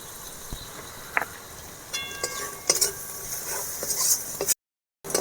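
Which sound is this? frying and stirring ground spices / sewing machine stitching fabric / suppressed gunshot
frying and stirring ground spices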